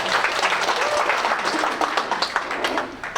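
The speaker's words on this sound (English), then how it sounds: "Round of applause for Roman." An audience claps and applauds steadily for a few seconds, a dense, fairly close patter of many hands.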